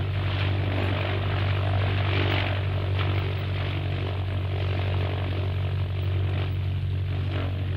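A propeller airplane flies overhead in a 1973 Japanese tokusatsu series, its engine a steady, loud droning hum that holds unbroken for several seconds with no talk.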